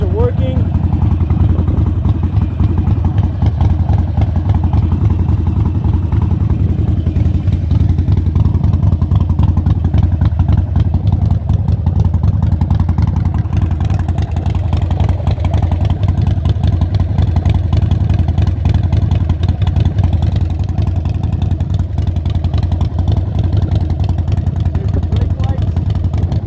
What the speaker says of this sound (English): we're gonna let her warm up for a little bit, and then we're gonna rev her up